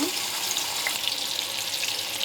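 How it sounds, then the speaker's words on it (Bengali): Onion paste dropped into hot oil in a pan sizzles: a steady, bright, crackling fry of even loudness that carries through the whole short stretch, close and alone. "পেঁয়াজের পেস্ট দিয়ে দিচ্ছি"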